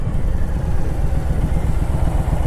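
A Honda Fury motorcycle engine rumbles steadily and loudly throughout while riding, with a dense low throb and road clatter and no voices.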